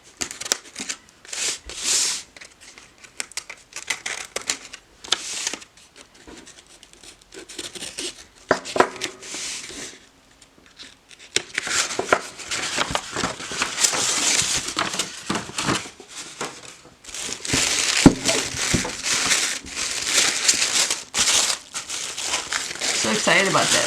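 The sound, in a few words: unwrapping a tarot deck package wrapped in paper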